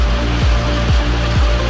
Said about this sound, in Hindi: बाहर हो रही है सॉलिड बारिश